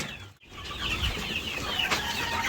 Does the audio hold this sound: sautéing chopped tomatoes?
no